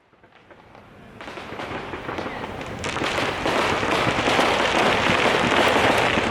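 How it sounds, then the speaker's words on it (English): Fireworks crackle and boom in rapid succession during a Green Day set at Riot Fest 2025, building into a dense, loud barrage with a roaring crowd-like wash beneath. "Green Day fireworks, no big deal."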